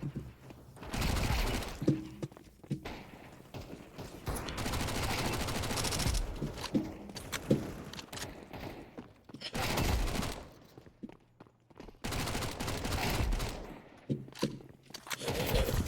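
Counter-Strike gunfire in rapid automatic bursts, loud and close, separated by brief quiet gaps, with clattering mechanical and footstep noises between volleys.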